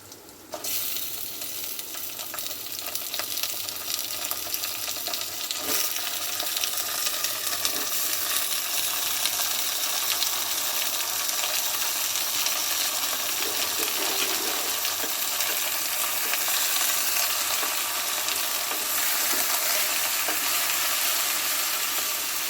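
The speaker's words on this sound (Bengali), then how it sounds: "তেলের মধ্যে মাংসগুলো কষাবো।" Pieces of Eid sacrificial beef hit hot oil in a pan, setting off a sharp onset and then a dense, even sizzle that roars on steadily for over twenty seconds, close and without talk.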